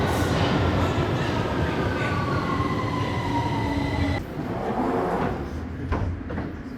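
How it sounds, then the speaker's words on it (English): A London Underground train pulls into Tottenham Hale station, its rumbling wheels and rising motor whine filling the platform before the noise drops off as it slows, with a faint voice briefly in the background. "was a train just arriving."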